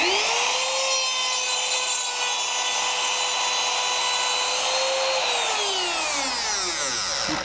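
Router with a radiused inlay setup makes a partial cut into a wood inlay wafer, a loud steady high-pitched whine with a tone that holds and then drops away near the end as the motor spins down.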